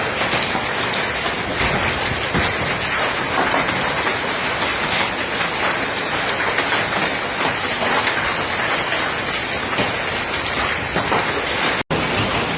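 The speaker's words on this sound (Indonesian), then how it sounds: "Lihat di Surabaya hujan es." Heavy hail pounds down in Surabaya, a dense, loud, continuous roar of ice striking roofs and surfaces that runs steadily without a break.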